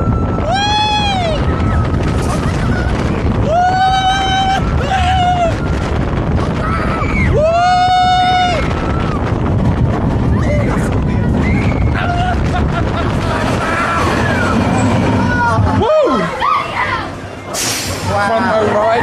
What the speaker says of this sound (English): Front row ride on Wipeout.